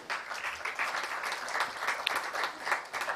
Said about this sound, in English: a huge round of applause for all the faculty and all of you